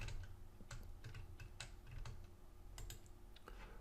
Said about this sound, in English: So we'll just type that in.